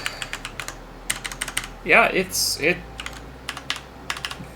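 Quick bursts of keystrokes tap on a computer keyboard near the mic during overclocking of a modded RX 580 graphics card, with someone briefly speaking in the middle.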